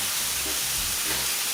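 Boiling water poured into a hot stovetop pan holding jerk chicken, giving a steady steamy hiss and sizzle with low bubbling rumble underneath, close and continuous.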